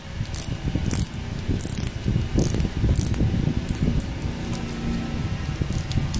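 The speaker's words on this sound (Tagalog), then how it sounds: "Kita nyo yung tunog ng bezel niya pag inikot." The bezel of a green Submariner-style wristwatch is turned by hand, giving a series of sharp, close ratcheting clicks in quick bursts over a faint background hum.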